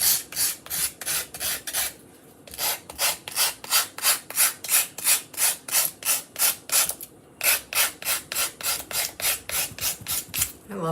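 Rhythmic back-and-forth rasping of wood being sanded by hand with a sanding stick, fast regular strokes with two short pauses, close and fairly loud.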